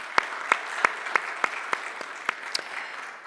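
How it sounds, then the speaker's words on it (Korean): A church congregation's brief applause after a Wednesday sermon, heard as a series of about nine sharp, evenly spaced claps over a quiet hall. "한번 하나님께 영광의 박수를 드리시기 바랍니다"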